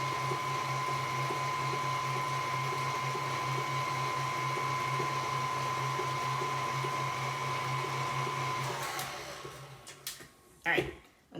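An electric mixer blends caramel tart dough with a steady, whirring motor hum for about nine seconds, then winds down and stops, followed by a few clunks in the bowl.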